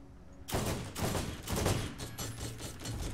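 Shotgun gunfire in Borderlands, a series of four or five heavy blasts about half a second apart, each with a dense rolling tail, loud and close with no talk.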